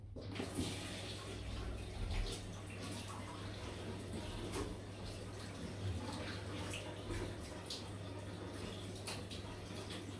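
Water runs steadily from a tap during a wet-shave rinse, a continuous broadband splashing hiss with a low hum underneath, fairly close and alone.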